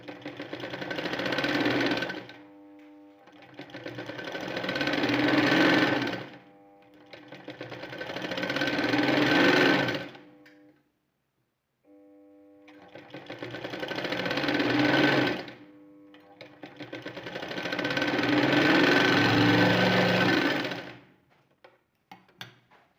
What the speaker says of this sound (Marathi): शिलाई मारूया